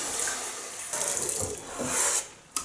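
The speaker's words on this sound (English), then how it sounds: "So I'll rinse off with cold water." Cold water runs from a tap for rinsing during a wet shave, a steady broadband hiss and splash that rises and falls as hands move under the stream, ending with a brief sharp splash.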